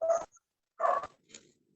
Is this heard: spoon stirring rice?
no